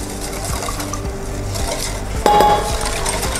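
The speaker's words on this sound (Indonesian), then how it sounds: "aduk sampai mendidih ya" A spoon stirs agar-agar pudding mixture in a pot, giving a continuous scraping swirl with clinks of metal against the pot, one sharper clink near the end.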